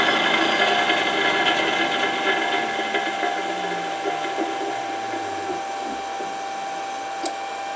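A three-phase motor on a 5 HP variable frequency drive ramps down from 60 Hz. Its steady mechanical hum and whine slowly falls in pitch and fades, with a faint click near the end.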